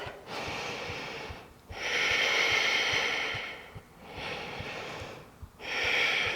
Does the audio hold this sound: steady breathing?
yes